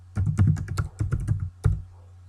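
Quick bursts of keystrokes on a computer keyboard while entering a password during a Linux Red Hat install, close and crisp, in three short clusters separated by brief pauses.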